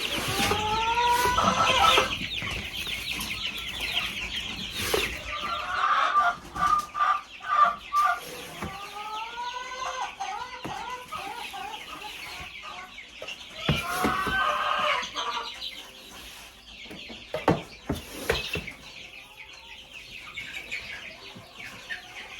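Chickens clucking in a straw-filled coop, with repeated close clucks and short squawks coming in bursts, some louder calls standing out against softer background clucking and rustling.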